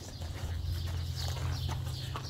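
A horse standing close by shifts and steps, with soft hoof sounds over a steady low background hum and a few brief higher rustles, moderately quiet, with no talk.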